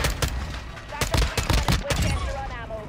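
M4 rifle fire in Modern Warfare 2, set to semi-auto: a series of sharp, punchy shots in uneven bursts, loud and close, with game effects around them.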